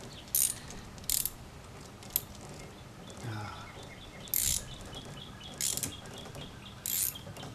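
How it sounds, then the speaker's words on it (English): A ratchet wrench tightening a fastener on a wooden panorama build, giving sparse, brief clicking bursts at irregular intervals over a quiet background. "As you can see, I'm using a ratchet, and the ratchet works extremely well, a ratchet wrench."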